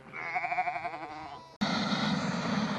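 Sheep bleat in a long, wavering, nasal cry beside the Rowrah kart circuit, and then a loud, steady engine roar takes over abruptly. There is no talking.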